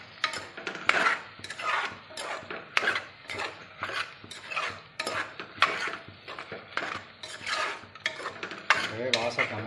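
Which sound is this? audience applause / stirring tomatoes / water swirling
stirring tomatoes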